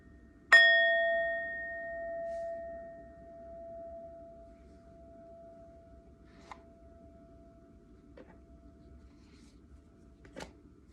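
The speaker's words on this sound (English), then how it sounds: "I'm going to let this sound from my singing bowl ring" A singing bowl is struck once and rings with a clear, pure tone that slowly fades over several seconds, followed by a few faint, light taps in an otherwise quiet room.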